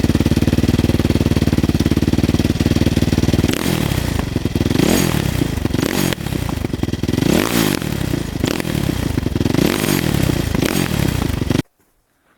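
A 450cc dirt bike engine runs loud and close while being ridden, a steady rasping drone with rhythmic surging throttle swells, then cuts off abruptly into silence at the end.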